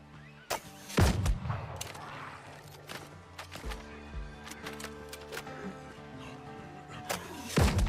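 Gunshots ring out in the Windrose pirate survival video game, a few sharp cracks spread through the clip over a busy game soundscape, fairly loud.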